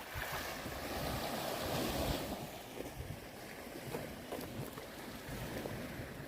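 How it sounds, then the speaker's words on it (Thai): Sea waves wash against the embankment of a shrimp pond, a continuous rushing surge of water with wind noise, steady and fairly faint, without speech. "ช่วงนี้ก็ยังมีคลื่น คลื่นทะเลอยู่นะครับ แต่ว่าก็ไม่แรงเหมือนเดือนที่แล้วนะครับ"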